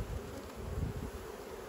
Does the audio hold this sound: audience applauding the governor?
no